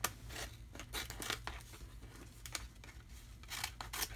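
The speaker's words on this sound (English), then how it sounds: "I want to cut out part of this envelope" Scissors snip through part of a paper envelope in quick bursts of faint, close crisp cuts and light paper rustling, with no talking.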